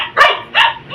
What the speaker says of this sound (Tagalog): napakaingay niyang asong yan